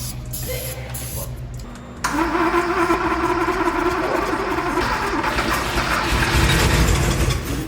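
A 1973 Porsche 911 engine, abandoned for 22 years, catches and runs loud and close, rough idle swelling into a steady roar as the gas pedal is worked.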